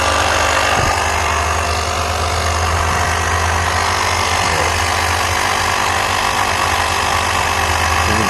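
A small air compressor runs on a homemade thirty-dollar smoke tester, a steady, loud mechanical hum with a low drone that holds without pause throughout, and no voices.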